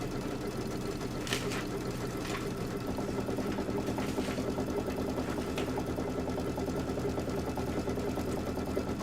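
An embroidery sewing machine stitches a placement line with a steady, fast mechanical whir and rhythmic needle chatter, close and continuous, with a few faint higher clicks over the hum and no talking.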